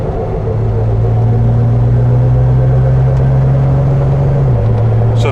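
A 1973 Triumph TR6 engine pulling steadily in third gear, a loud continuous low drone from inside the car with a steady pitch that shifts slightly near the end, no voices.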